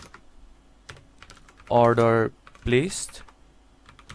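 Keys clatter on a computer keyboard in quick, light taps, with a few bursts of typing before and between two stretches of someone talking close to the microphone.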